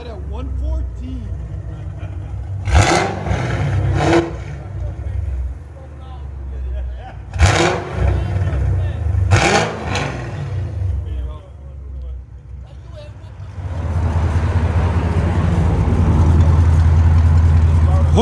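A cammed Chevy Camaro SS with a 6.2L V8, Hooker long tube headers and exhaust gives a deep, steady rumble under loud talk, swelling louder near the end.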